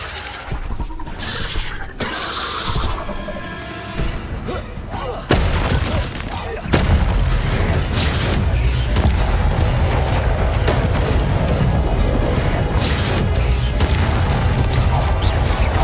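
Confringo fire-spell blasts from Hogwarts Legacy, the wizarding video game, rumbling as loud booming impacts that build into a dense, continuous roar of explosions and crashing debris.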